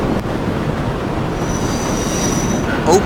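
A subway train in the World of Subways 4 game runs steadily through a tunnel during rush hour, with continuous rumbling wheel and rail noise, a faint high whine, and a brief squeal near the end.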